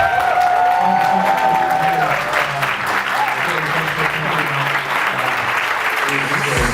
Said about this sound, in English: I think Gary deserves like a really big round of applause.